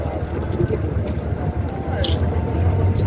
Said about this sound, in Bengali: ওই যে দেখুন একটি ট্রলার ছেড়ে আসছে ফেরিঘাট থেকে।